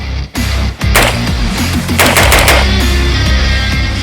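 An AR-15 carbine fed civilian ammunition and fitted with a third buffer fires a rapid burst of loud, close gunshots, with two short gaps early on and a clattering run of shots to the end.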